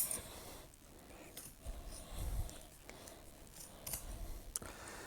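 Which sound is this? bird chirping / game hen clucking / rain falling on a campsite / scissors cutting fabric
scissors cutting fabric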